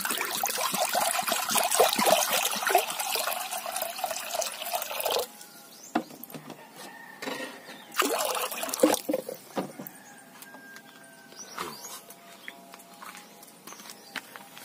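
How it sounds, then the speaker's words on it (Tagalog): Tap water runs and splashes into a cooking pot as water is added to rice, loud and steady for about five seconds, then stops and restarts in short bursts amid clinks, drips and handling noises. "Lagyan na natin ng tubig."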